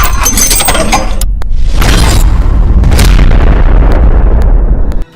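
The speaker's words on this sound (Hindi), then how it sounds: "हत्यारों ने गोलियां बरसानी शुरू की।" Loud, close gunfire bursts and booming blasts crack out in rapid succession, with sharp clinking debris, as a staged sound effect reconstructing an armed attack in a crime news report. No voices are heard.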